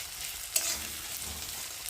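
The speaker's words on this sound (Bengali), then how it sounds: "রসুনটা পেঁয়াজের সাথে ভাজা ভাজা হয়ে যাবে" Garlic fries with onions in a pan while cooking a rui fish curry, giving a short, even, close hiss of sizzling oil with one brief clink partway through.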